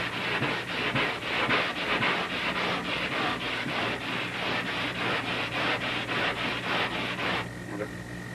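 Sandpaper rubs across a wooden boat deck in quick, regular back-and-forth strokes at close range, stopping just before the end.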